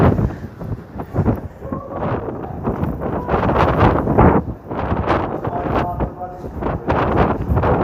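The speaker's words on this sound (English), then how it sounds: "it's just so fucking windy" Strong coastal wind at Folkestone, Kent buffets the microphone in rough, roaring gusts that rise and fall throughout, loud and close.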